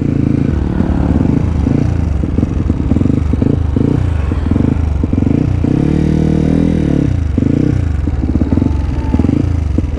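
A motorcycle engine runs close by, a steady loud mid-pitched drone with rhythmic rises and falls as it passes, continuing without a break over the whole stretch.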